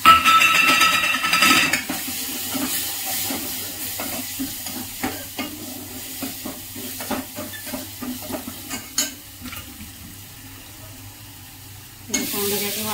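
Spices hit hot oil in a home kitchen pan, with a loud sizzle at the start, then steady frying and repeated stirring scrapes, and a fresh burst of sizzling near the end; a voice speaks briefly.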